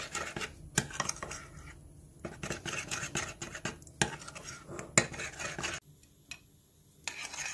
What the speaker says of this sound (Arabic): نحركو مزيان حتى يذوب مزيان